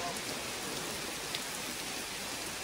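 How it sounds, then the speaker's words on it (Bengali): Rain falls at Kalapatthar beach on Havelock Island in the Andamans, a soft, even hiss of drops with no voices, steady and fairly faint throughout. "আর বৃষ্টি পড়ছে, এবার এখানে দাঁড়াতে পারবো না, বৃষ্টি নেমে গেছে"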